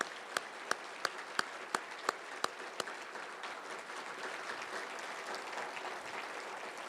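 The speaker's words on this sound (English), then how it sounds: "Let's have a round of applause" Sustained applause from a fundraising dinner audience fills the room, with one person's sharp, steady claps standing out at first before the crowd's clapping carries on alone.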